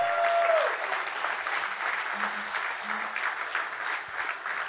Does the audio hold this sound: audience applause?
yes